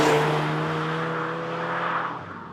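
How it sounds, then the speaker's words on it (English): Volkswagen Golf GTI TCR engine accelerating hard, a loud, close, steady throaty drone with rising harmonics that holds for a couple of seconds before easing slightly at the end. "We put my foot down here, engine pulls really nicely."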